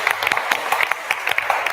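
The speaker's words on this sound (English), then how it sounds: "Please give him a round of applause." An audience at an event gives a round of applause, a close, dense patter of many hands clapping in quick, uneven bursts for nearly two seconds.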